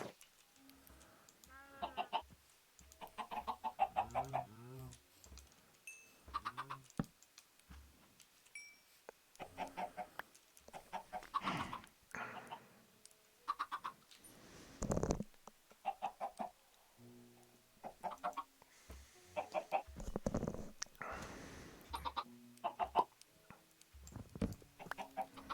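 Chickens in the video game Minecraft cluck and squawk in scattered bursts against a quiet backdrop, with other brief game noises in between and no talk over them.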